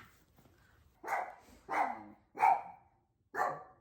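Several dogs bark in four loud, separate bursts about a second apart, close by, with no talking over them.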